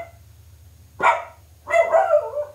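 A dog barks twice close by, one sharp bark followed after a pause by a longer, rougher bark, over a low steady hum indoors.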